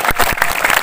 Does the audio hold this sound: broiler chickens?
no